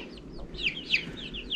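Grown young chickens cluck and chirp in quick, overlapping bursts close by, with no talking over them.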